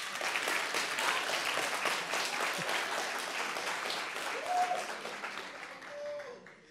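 Audience applause at a music industry forum: steady, dense clapping from the crowd filling the whole stretch, with a couple of brief tonal whoops or whistles near the end.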